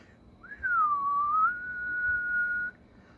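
A person whistles into a Radioddity CB27 Mini AM/FM CB radio microphone, a single clear sliding whistle that dips, rises and then holds steady for about two seconds before cutting off.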